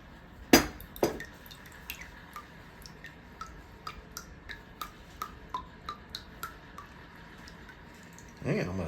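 Liquid drains from a can of recipe ingredients, for a spiced cake, in a steady series of small drips and ticks. Two sharper clinks come near the start, and a voice picks up at the end.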